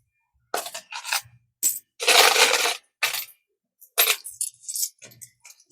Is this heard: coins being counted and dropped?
yes